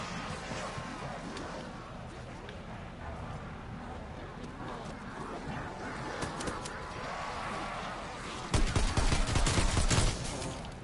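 Video game gunfire erupts in a loud rapid burst near the end, standing out over a constant dense bed of game noise and ambience.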